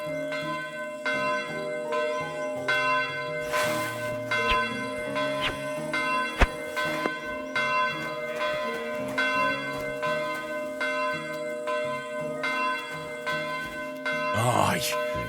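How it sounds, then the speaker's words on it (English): A church bell rings in the medieval world of Kingdom Come: Deliverance II, with sustained resonant tolls layered over game ambience and a few louder strikes, while a voice talks faintly in the background. "They really did fix that bell."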